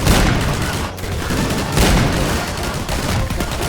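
Rapid gunfire in the Garry's Mod video game, with dense bursts of shots forming a loud, nearly continuous fusillade throughout the short stretch, with no talk over it.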